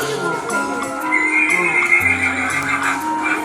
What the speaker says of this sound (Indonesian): Ini juga ada kudanya beliau di sini ada kuda